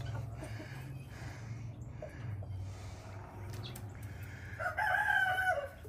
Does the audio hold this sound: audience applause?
no